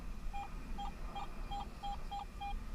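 A Garrett AT Pro metal detector sweeping over iron in a forest dig gives about seven short, evenly spaced beeps of the same pitch, clear and close over a steady background hiss.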